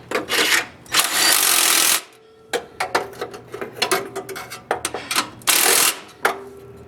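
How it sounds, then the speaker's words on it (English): An impact wrench runs the engine bolts tight to 70 foot-pounds while installing a Subaru EJ25 boxer engine in a 2006 Forester, with two long, loud hammering bursts around a cluster of short clattering rattles and clanks, close by with no talk. "So I just go ahead and draw them right up and tighten them up to 70 foot-pounds."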